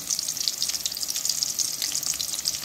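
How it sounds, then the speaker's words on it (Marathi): Onion frying in a pan until reddish, an even, dense sizzle and crackle heard up close, steady throughout with no talking. "कांदा छान लालसर कलर येऊपर्यंत भाजून घ्यायचा आपल्याला."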